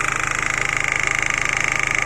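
A 2000 Holden Astra engine idles steadily and evenly with a continuous, close-up mechanical hum and a fast regular pulse, carrying on unbroken without any voices.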